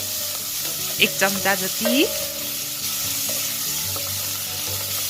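Ginger garlic paste frying in a pan for a sprouted fenugreek (methi) curry, with a constant sizzle and brief scraping stirs near the start, while a voice speaks briefly over it.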